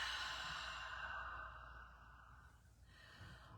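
A long, soft exhale in a chair yoga session, a breathy sigh fading gradually over a few seconds at close range.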